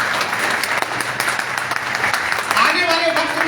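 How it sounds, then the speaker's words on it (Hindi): Seminar audience applauding in a hall, a steady wash of many hands clapping at close to moderate distance, sustained through the moment with slight swells. "तो इसके लिए आप ताली बजाइए अपनी।"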